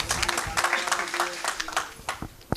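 Scattered applause and clapping from an audience at a poetry book launch, fairly close, with a voice talking over it throughout.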